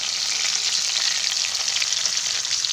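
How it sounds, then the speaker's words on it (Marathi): Onions and green chillies frying in hot oil with peanuts and curry leaves, a loud, dense, continuous sizzle close by with no voices. "त्याचप्रकारे मी इथे कांदे आणि मिरच्या पण ॲड करून घेणार आहे."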